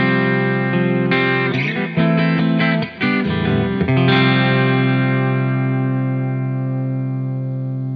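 Electric guitar through an Eddie Rifkind Speaker Manager pedal set around the middle for slight harmonics and chime, strummed chords with a few quick picked changes, then a bright sustained chord ringing out and fading.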